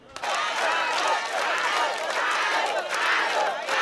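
A crowd applauding and cheering at a village electrification event in Côte d'Ivoire, loud mixed shouts and claps rising sharply and holding throughout before cutting off.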